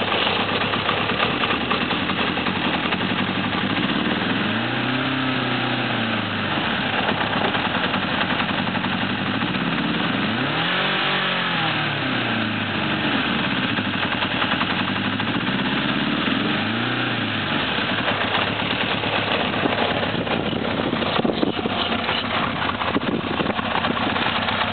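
A 1982 Honda CB900F four-cylinder motorcycle engine running steadily after a cold start, a close, continuous idle with slow rises and falls in revs as it warms.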